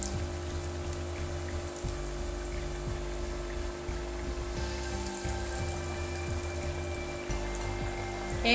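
Potato pakoras deep-frying in hot ghee give a steady, continuous sizzle and bubbling hiss that holds at an even level throughout, with a low steady hum underneath and no voices.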